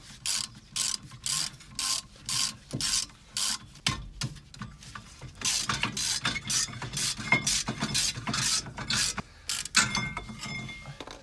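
On an Austin Maestro, a 19 mm wrench works loose the brake caliper carrier: a series of short ratcheting and rubbing metal bursts close up, regular at first, then denser and irregular. No voices are heard.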